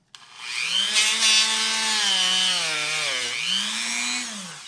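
A Dremel rotary tool spins steadily while buffing guitar frets with blue rouge, a continuous close whine whose pitch dips and rises as pressure on the metal changes, with no voices over it.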